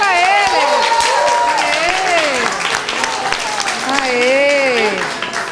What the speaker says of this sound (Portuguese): Aê, palmas para eles.